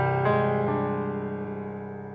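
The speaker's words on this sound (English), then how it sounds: "I've got a piano part that I want to add a reverse delay to" A piano part from a Pro Tools session sounds a few struck notes close up. They land one after another and then fade into a long decaying sustain.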